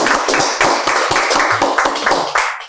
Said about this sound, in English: So let's give him a round of applause, please.